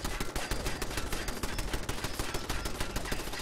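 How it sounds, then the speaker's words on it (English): Several turrets in a video game firing from different directions, rapid continuous machine-gun-like bursts of shots, loud and dense throughout, no talk. "I got three different turrets shooting at me from three different directions."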